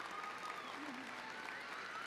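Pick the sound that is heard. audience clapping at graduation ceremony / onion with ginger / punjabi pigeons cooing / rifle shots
audience clapping at graduation ceremony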